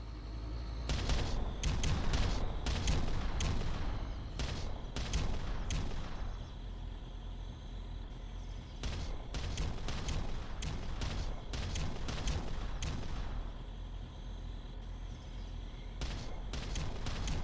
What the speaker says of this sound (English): Deploying special weapon. Enemy infantry destroyed. Pulverizing target.